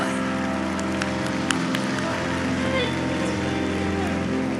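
A church audience claps steadily in a dense, rain-like wash throughout, blended with sustained musical tones under it.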